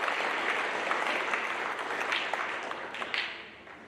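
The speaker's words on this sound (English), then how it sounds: "So give them a round of applause" An audience at a high school fall sports awards program applauds, with dense, steady clapping filling the room and slowly tapering off toward the end.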